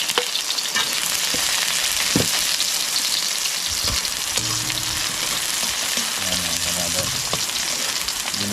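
Onion and garlic sauté in hot oil for wild mushroom ginisa with malunggay, a loud, dense, continuous sizzle close up, with occasional clinks of a utensil against the pan and no voices.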